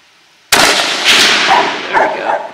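A Savage Model 10 .223 rifle fires one loud, sharp shot outdoors, its crack trailing into a long echoing rumble that rolls on for about two seconds.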